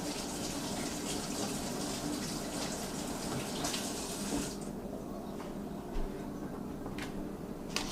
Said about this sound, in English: Let me rinse my hands.